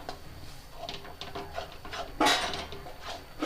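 A spoon stirs coriander into pumpkin zunka in a pan, giving soft scraping taps and one sharper metallic clink midway, close and fairly quiet.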